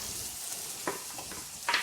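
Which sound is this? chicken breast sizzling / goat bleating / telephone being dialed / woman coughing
chicken breast sizzling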